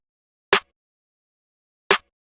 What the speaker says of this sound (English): which is the FETS snare.